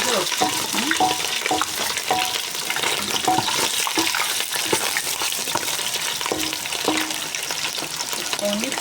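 Turkey meat frying in a pan for a Christmas family meal: a dense, loud, crackling sizzle with scraping stir movements throughout, up close, and a faint voice in the background.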